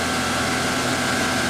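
Spinning at 2500 RPM, the spindle of a 2004 Clausing Metosa 17-by-60-inch CNC flat bed turning center gives off a continuous, loud, even machine whir with a faint high tone, unchanging over the short stretch.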